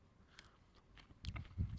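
Biting and chewing raw crunchy seed pods foraged in the UK in September, soft crunches early then louder close-up chomps toward the end, with no talking.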